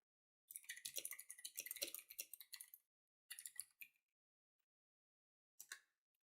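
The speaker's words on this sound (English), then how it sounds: "I'll go ahead and type it out in chat" Quick typing on a computer keyboard, close and clear: a dense burst of rapid key clicks, then a shorter run after a pause, and a final brief flurry, with silence between.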